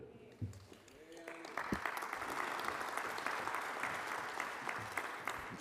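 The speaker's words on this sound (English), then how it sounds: "Give him a big round of applause" An audience applauds at a chefs' general assembly, the clapping swelling from a thin patter into steady, dense applause that fills the room, with brief bits of voice near the start.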